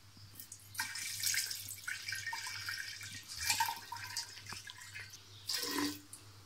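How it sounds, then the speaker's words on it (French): Alcohol for homemade limoncello poured into a container on a scale, an uneven liquid trickle and splash with brief gurgling bursts over a low hum, with no talking. "je vais mettre 500 ml d'alcool"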